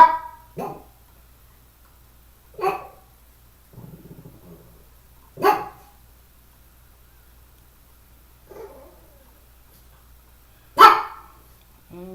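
A dog barks in short single yaps, about five spaced a couple of seconds apart, fairly close, with a quiet room in between.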